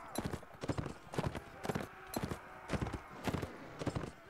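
Rhythmic hoofbeats of a horse galloping in the Warband mod Warsword Conquest, a steady fast clip-clop pattern of repeated impacts, close and clear, continuing throughout.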